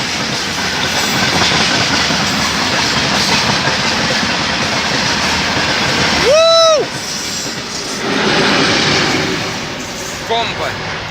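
A train rumbles past Ozerki station in Saint Petersburg with steady clattering wheels and a short horn blast midway, heard close amid station noise, with people talking nearby.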